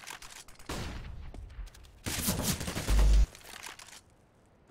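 Gunfire in Counter-Strike: Global Offensive on the Dust 2 map, with bursts of rapid shots and a sharp loud crack, heard alone without talk.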